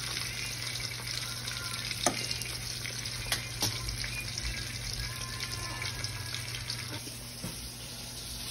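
Tilapia fish frying in a pan gives a steady, fairly quiet sizzling hiss with a few sharper pops and crackles scattered through it, heard close and alone.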